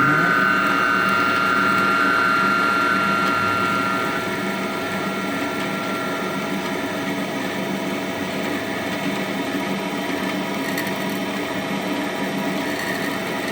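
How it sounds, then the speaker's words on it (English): Cobra Class NP-4 bell skiver running steadily while its sharpening stone is advanced by a turned knob, giving a close mechanical whir with a higher whine that fades after a few seconds and then a constant hum. "We're going to advance the stone by turning counterclockwise on this particular knob."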